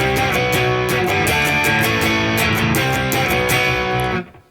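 A distorted electric guitar plays the chorus of a song, a dense, driving wall of fuzz with steady rhythmic strumming that cuts off abruptly at the end.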